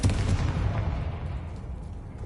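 A Confringo fire spell blasts off in Hogwarts Legacy, a loud, deep boom at the very start that rolls into a rumbling tail and slowly fades over about two seconds.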